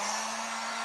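A hair dryer blows hot air to dry filament, giving a brief, steady, close whoosh with an even motor hum and no talk.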